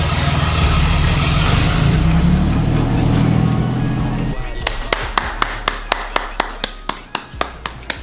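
An Oldsmobile Cutlass G-body car is driven on its first test ride, its engine rumbling loudly under music and then dropping off, followed by a run of sharp, evenly spaced taps or clicks near the end.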